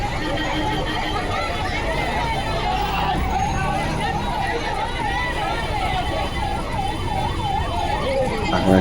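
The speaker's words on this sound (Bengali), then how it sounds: "আপনারা দেখছেন যে এই যে অ্যাম্বুলেন্সটা পার করে দেওয়া হচ্ছে" An ambulance siren wails through road traffic, its rising and falling tone steady and fairly close over engine noise and crowd babble, with people talking nearby.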